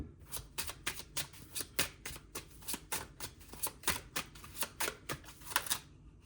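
A deck of tarot-style cards is shuffled by hand, a quiet, close series of crisp riffling bursts repeating in a steady rhythm for several seconds.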